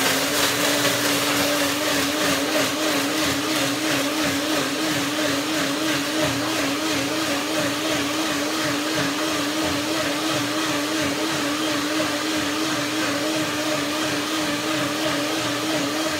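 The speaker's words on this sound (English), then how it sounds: "So now the blender dance." A blender whirs steadily and loudly at close range, a constant motor drone with a slight pulsing wobble, with no talking over it.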